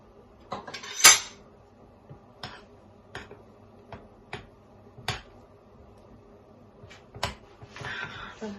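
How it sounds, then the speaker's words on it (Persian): A spoon stirs green food colouring into watermelon roll batter, giving sparse, sharp clinks against the bowl at irregular intervals, close and clear over a quiet background. "همینطور حالت دورانی و آهسته همش میزنم تا این با رنگ سبز مخلوط بشه"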